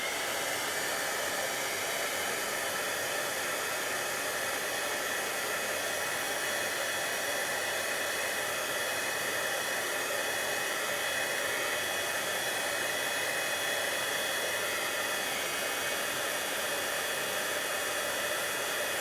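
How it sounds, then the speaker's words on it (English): A heat tool blows hot air over a Christmas card: one loud, constant whooshing blast, close and unbroken, with no voices. "so I'm gonna bring in my heat tool and heat it up."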